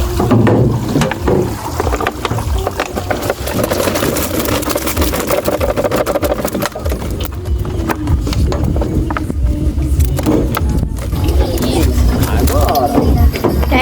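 Two outboard boat motors drone steadily throughout, a loud continuous engine hum with water noise and occasional voices.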